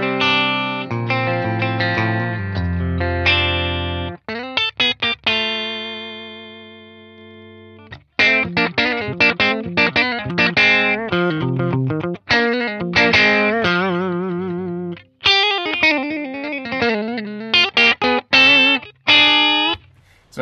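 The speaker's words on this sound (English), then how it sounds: "if you turn the input drive down, it's really nice and jangly" An electric guitar runs through an Axe-Fx III amp model with low input drive for a bright, jangly clean tone, playing strummed chords and picked single-note runs with brief pauses, loud and close with no talk.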